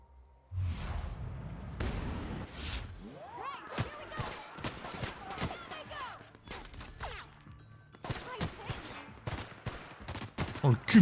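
Rapid bursts of gunfire from a newly acquired weapon in The Outer Worlds, sharp repeated shots with whooshing impacts and crashes, loud and close, spread across the whole stretch.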